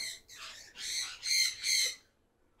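A peacock kept in a small cage gives a series of four harsh, rising squawks, close and fairly loud, followed by quiet.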